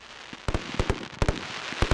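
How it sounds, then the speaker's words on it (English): Fireworks at a yearly village display in Lanreath, a rapid series of sharp cracking bangs in close pairs, loud and close with no voices. "One event that is guaranteed to go off well is the now yearly firework display"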